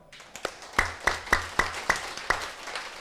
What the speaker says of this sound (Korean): 자, 우리 박수 한번 치고 할까요?